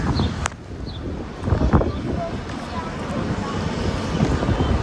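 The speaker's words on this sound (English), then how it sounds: "It's a little windy out here." Gusty outdoor wind buffets a microphone, strong enough to topple a tripod, making a steady low rumble with swelling surges throughout.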